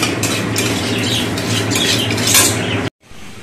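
Semai vermicelli fries in ghee in a pan, giving a dense, close sizzle broken by the clatter of a spoon, before it cuts off abruptly near the end.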